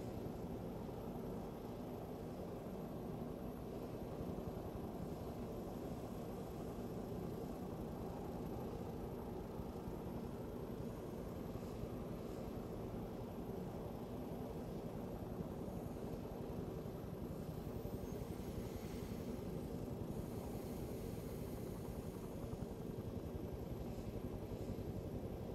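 A low, steady aircraft drone in ArmA 3 as planes pass over a runway during a Vietnam-era operation. The engine rumble is continuous and faint, holding level for about twenty-five seconds.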